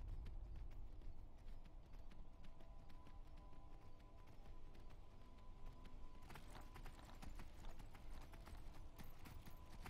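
Horse hooves clip-clopping in a steady running rhythm along a road in the video game Skyrim, close and continuous for the whole stretch, with no talk over them.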